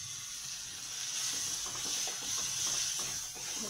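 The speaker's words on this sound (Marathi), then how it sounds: "हे चांगलं भाजून घेते मी, छानपैकी टोमॅटो मऊ करायचे आपल्याला।" Tomatoes and coriander leaves frying in a pan for paneer bhurji give a steady, close sizzling hiss with faint stirring scrapes, constant throughout and without talk.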